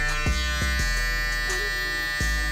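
An electric hair clipper buzzes continuously during a high taper haircut, with a steady close hum broken by a few short bumps and pauses as the blades are worked through the hair.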